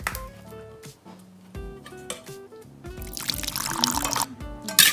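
Fish sauce is poured into som tam in small splashes and drips, a close, quiet trickle that grows into a fuller pour near the end.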